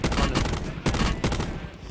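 Gunfire in the battle-royale mode of Call of Duty Blackout comes as rapid bursts of shots layered over game noise, fairly close and loud.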